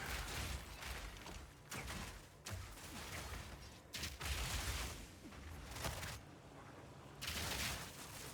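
Repeated mortar grenade blasts in the action RPG Path of Exile 2 come in bursts of booming impacts, dense and loud, with short pauses between volleys and no talk over them.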